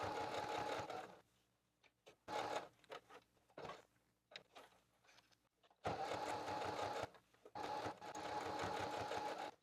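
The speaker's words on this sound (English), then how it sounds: "I'm going to cut the dowel here and I'm going to sew this area." A sewing machine stitches a canvas wall banner in several bursts of rapid, whirring mechanical chatter, separated by short quiet gaps and handling noises.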